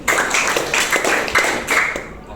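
A class claps together in a set rhythmic pattern led by a teacher: a steady series of sharp, fairly loud group claps in regular bursts, fairly close, with no talking in between.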